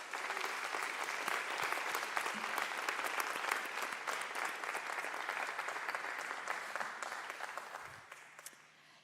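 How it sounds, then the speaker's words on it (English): A conference audience at a public forum session in Coimbra gives sustained applause. The dense clapping carries evenly for several seconds and then tapers off slightly at the end, with no voices over it. "For them, I would like a round of applause."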